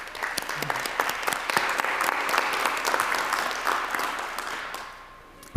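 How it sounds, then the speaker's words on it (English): A crowd applauds steadily, dense clapping holding at a fairly even level before tapering off near the end. "Let's give them all a round of applause."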